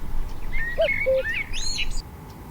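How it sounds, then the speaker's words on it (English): Birds sing beside the River Maun in a quiet riverside setting, giving a string of clear chirps, whistles and rising trills at moderate distance, with no one talking. "birds are always singing, as you probably can hear in the background"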